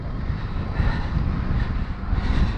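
Strong wind buffeting the microphone while cycling through the Lincolnshire Wolds, a loud, steady low roar with gusty swells and no talking.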